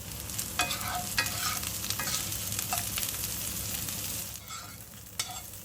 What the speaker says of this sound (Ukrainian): Злегка підсмажуємо і далі висипаємо моркву.